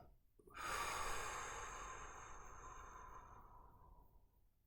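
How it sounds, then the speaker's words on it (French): During a guided breathing exercise, a single long, deep exhale rises sharply and fades slowly over about four seconds, close and breathy, with no talking. "Et soufflez en abaissant pour faire redescendre la pression."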